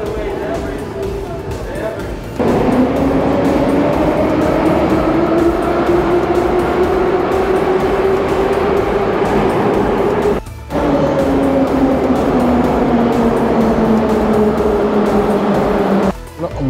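A high-speed Moscow Metro underground train roars loudly through a tunnel in a sustained, rising and falling rush with whining pitch sweeps, broken by brief dips as it passes joints or sections, while a voice talks over it.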